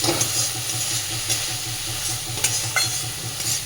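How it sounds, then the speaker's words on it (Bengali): Soaked masoor lentils are stirred into a hot tempering of oil and spices, with a steady sizzle and frying hiss under repeated scraping strokes of a spoon against the pan, close and fairly loud. "ডালটা দিয়ে খুব সুন্দর করে মিশিয়ে নেব"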